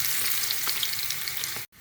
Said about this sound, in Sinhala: දැන් අපි බටු ටික ගැඹුරු තෙල් එකේ බෙදගමු